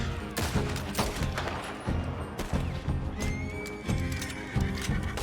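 In Red Dead Redemption 2, a horse whinnies loudly amid gunfire and clattering hooves, with sharp shots and crashes in a busy, dense mix.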